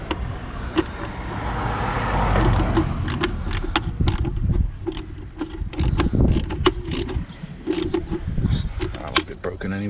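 Ratchet socket wrench clicking in short bursts while undoing bolts on a BMW M52 straight-six engine, close up amid workshop handling noise and someone talking.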